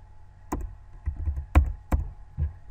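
A few separate keystrokes tapped on a computer keyboard while writing code, five or six distinct clicks spaced unevenly across a couple of seconds, close and fairly quiet with no talking.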